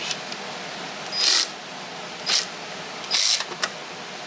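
A ratchet wrench works on 5/16 bolts, giving three or four short bursts of rapid clicking separated by pauses, close and clear over a quiet background.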